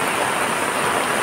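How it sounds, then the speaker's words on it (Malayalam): Heavy rain in Kureepuzha pours down as a dense, steady hiss that stays loud and unbroken throughout, with no voices over it. "ഭയങ്കരമായ മഴ തന്നെയാണ്."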